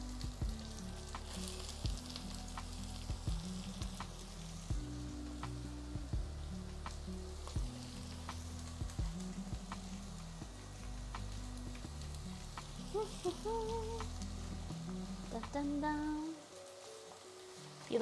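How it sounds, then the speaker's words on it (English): Carrots, onion and other vegetables fry in a pan with a steady close sizzle, while a utensil stirs with repeated knocks and scrapes. A short whistle-like tone rises near the end before the sizzle cuts off. "You like the frying sound?"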